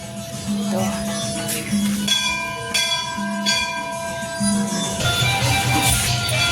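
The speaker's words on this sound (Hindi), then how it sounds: "अभी चर्च की घंटी लग गई है, ये लास्ट घंटी।" A church bell tolls in slow, regular strikes with a bright metallic ring, repeating about every second and a half over a steady background murmur.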